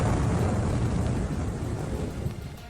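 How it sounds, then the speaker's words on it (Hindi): Bomb blasts strike Russian military sites, a deep booming roar that rolls and slowly fades over a couple of seconds, heard from a distance with no voices. "ड्रोन से सामने आई तस्वीरों में एक के बाद एक कई धमाके होते नजर आए।"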